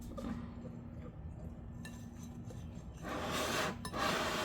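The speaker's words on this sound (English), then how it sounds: "we're just gonna do this by hand. So, just gonna whisk." Brownie batter being whisked by hand in a bowl, a soft, steady scraping and rubbing with faint clinks of the whisk, growing busier and louder toward the end.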